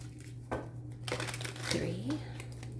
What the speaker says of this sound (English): Let's go ahead and shuffle 7 times.